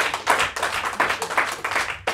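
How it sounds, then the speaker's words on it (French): A French studio audience claps for a few seconds on a radio-style talk show, a short burst of hand claps that swells and falls in waves without talk over it. "Merci d'applaudir."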